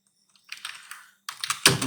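Bursts of typing on a computer keyboard while writing paragraphs, quiet irregular key clicks in two runs separated by a brief pause, close and alone with no voice.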